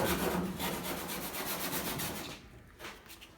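Trimming a fiberglass-style hood on a Fox Body race car build, with a steady, close, loud rasping rub of a cutting or sanding tool that cuts off abruptly before a few lighter strokes.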